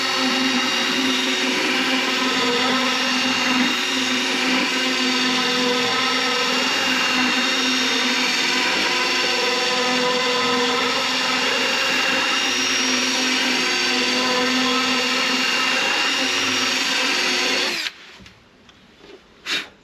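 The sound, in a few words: power tool with milling bit enlarging and smoothing a hole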